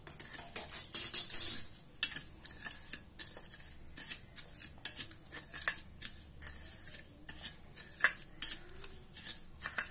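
Breadcrumbs mixed with pepper powder and salt in a bowl for crispy onion rings, giving a dry gritty scraping and rustling with repeated short strokes, close and fairly quiet.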